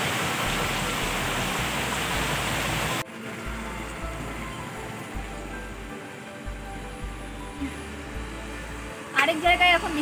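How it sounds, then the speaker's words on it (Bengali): Steady rain pours down while people shelter under a shop awning in Cooch Behar, a dense continuous hiss filling the scene, loudest at first and then softer, with brief bursts of nearby sound near the end. "কোচবিহারে এসে হঠাৎ করে বৃষ্টি শুরু হলো"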